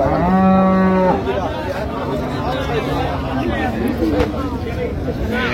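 Dairy cows and calves at Raniganj cattle market in Dinajpur: one loud, close, drawn-out moo opens, then the busy market hubbub takes over, with traders talking throughout.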